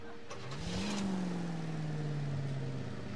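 A car engine in the video game L.A. Noire revs up with a rising tone, then settles into a loud, steady drone close by, with no talk over it.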